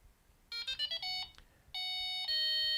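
A Delkim Rx-D bite alarm receiver powering on plays a sequence of bright electronic beeps and tones: short stepped notes first, then two longer sustained tones, close and loud with no talk.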